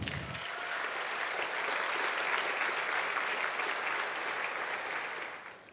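Audience at a graduation ball for ŠC Slovenske Konjice-Zreče applauding the dancers, a full, steady burst of many hands clapping that swells quickly and tapers off after about five seconds.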